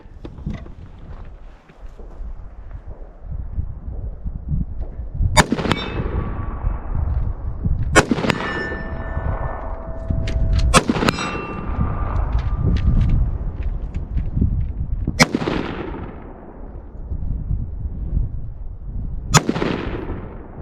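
A 5.56 AR rifle fired outdoors at a steel target, five loud sharp shots spaced several seconds apart, some followed by a ringing metallic ping from the steel, over steady wind rumble with no talking.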